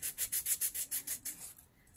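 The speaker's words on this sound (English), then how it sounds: "Sand this cardstock a little bit and then distress it" Quick rhythmic scratchy rubbing strokes of a nail file sanding cardstock, about ten in a row, close and soft, fading out near the end.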